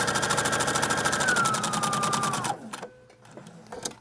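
A sewing machine stitches a zipper pouch with a steady, fast mechanical whir that runs close and loud for a couple of seconds, then stops, leaving faint handling clicks.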